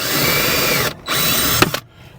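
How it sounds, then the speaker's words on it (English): Power drill with a self-centering bit driving a screw while installing an auxiliary SeeLevel panel, a close, steady whir that stops briefly and resumes before ending in a short burst of ratcheting clicks. "Pre-drilling the holes is key."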